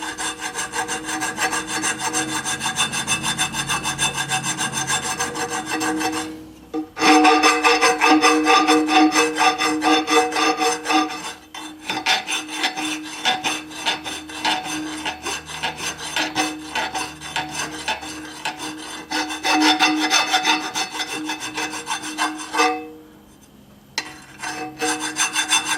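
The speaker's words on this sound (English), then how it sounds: "I might as well just file it down to where I want it" A metal part for a homemade water-cooled Briggs engine is filed while clamped in a vise, giving loud, close rasping strokes in long runs broken by short pauses, with no talking.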